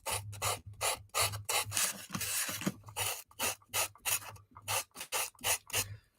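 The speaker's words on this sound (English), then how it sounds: "You can buy sheets of sandpaper" Hand sanding with a sheet of sandpaper on a sanding block during casual crafting, a quiet rhythmic series of close rasping strokes, about a dozen back-and-forth scrapes with brief gaps, heard alone.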